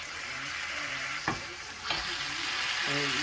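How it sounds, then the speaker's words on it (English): Milk gravy being stirred in a pan with sausage frying, a constant loud sizzle broken by two spoon scrapes, with faint low voice-like hum underneath. "So we stir that up real good."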